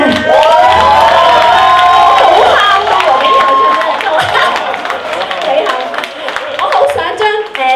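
A concert audience at a Calgary bar venue claps and cheers loudly, with shouts and whoops over dense applause that gradually thins and becomes more scattered across the eight seconds.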